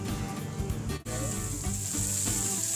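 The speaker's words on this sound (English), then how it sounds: "We'll start with our onion." Chopped onion sizzling and frying in a hot pan while making chicken Alfredo: a steady, loud crackling sizzle with a brief dip around the one-second mark, then continuing evenly with no voices.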